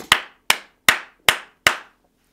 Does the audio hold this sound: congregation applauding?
yes